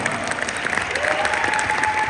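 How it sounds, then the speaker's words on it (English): Brief audience applause for Dr. Barco at a talk, a dense patter of clapping with a thin tonal whine running through it. "Can you give Dr. a big round of applause?"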